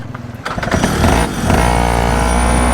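A mini Porsche GT3RS with a two-stroke engine sputters, catches and revs hard, building into a loud, buzzing, sustained high-pitched drone at close range.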